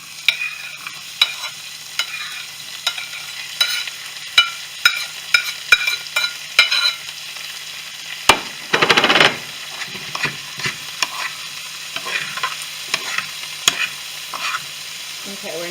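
Two seasoned eggs with vegetables cook in a pan for shrimp fried rice, a soft, close sizzle under scattered clicks and scrapes of stirring, with a brief louder burst of frying midway.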